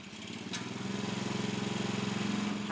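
A generator engine running on biogas, a steady low chugging hum with even rapid pulses that builds slightly in the opening moments, fairly faint and with no talk.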